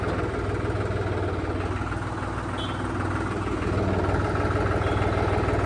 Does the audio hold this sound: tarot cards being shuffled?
no